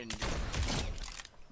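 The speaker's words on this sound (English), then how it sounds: "You, quit shooting" Rapid burst of gunfire in the video game Fortnite, loud and dense for about a second, with a voice speaking over it.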